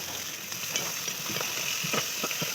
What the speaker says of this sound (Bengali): আবার কচুর শাকটা নামিয়ে এরকম মাছ কটা ভেজে নিলাম